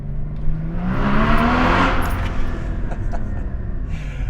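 A salvaged Porsche GT4 drives through road tunnels, its engine roaring loud and close with a broad rushing whir that swells and then eases slightly, echoing off the tunnel walls.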